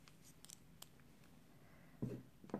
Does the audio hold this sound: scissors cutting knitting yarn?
yes